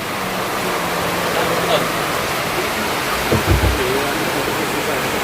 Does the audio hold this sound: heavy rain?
yes